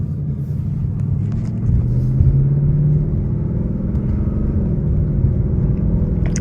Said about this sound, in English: So now we're gonna put the transmission in sport so that we can play with the paddle shifters